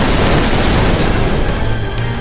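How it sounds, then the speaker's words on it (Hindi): An explosive-laden suicide car bomb blows up near an embassy, a loud, close, broadband roar that fills the moment and slowly thins out as it rumbles on. "वो आतंक का धमाका था।"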